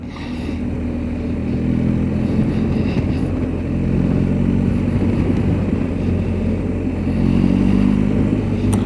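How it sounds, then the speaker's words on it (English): Motorcycle engines drone loudly and steadily nearby, the rumble swelling and easing slightly as the bikes ride past. "all these idiots going up and down on motorbikes"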